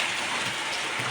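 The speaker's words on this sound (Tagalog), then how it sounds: "May ice ang ulan. Kaya pala sobrang lamig." Cold rain mixed with hail falling steadily, a dense continuous hiss of drops striking surfaces close by.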